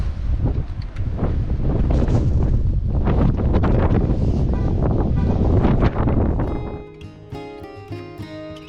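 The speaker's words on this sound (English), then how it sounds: "It's a high wind warning day today." Strong gusting wind at the mile-high swinging bridge buffets the microphone in loud, continuous roaring rushes that drop away near the end and leave a quieter tonal background.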